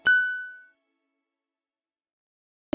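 A single bright notification bell ding rings out clearly and decays over about half a second, followed by silence.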